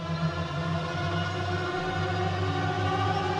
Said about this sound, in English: what I added then is here just a string riser